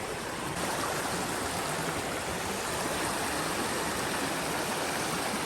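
A mountain river flows down past a resort with a swimming pool, giving a steady, full rush of running water that stays even and close throughout, with no voices over it.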